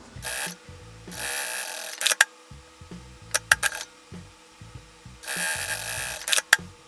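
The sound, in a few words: sewing machine stitching binding on a bag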